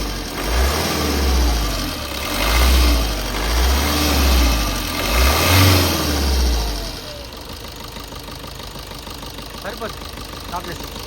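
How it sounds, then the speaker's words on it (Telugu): A 2016 Maruti Suzuki Baleno 1.3-litre diesel engine runs with a deep, pulsing rumble that swells and dips for several seconds, then cuts out, leaving quieter background noise. "వెహికల్ సింగిల్ సెల్ఫ్లో వెహికల్ అనేది స్టార్ట్ అవ్వడం జరుగుతుంది"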